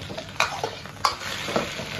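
Sea bass cooks in oil in a wok, a close sizzle broken by several sharp scraping stirs of the ladle against the metal, spaced roughly half a second apart.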